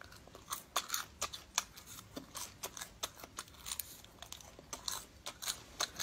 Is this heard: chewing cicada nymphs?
yes